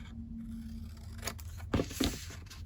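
Scissors trim cardstock in a few crisp snips close up, two distinct cuts near the end after a quiet rustle, with no talking.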